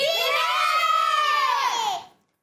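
A children's team shouts loudly together during a kids' quiz contest, a sustained collective yell of young voices that holds steady for about two seconds before cutting off into silence.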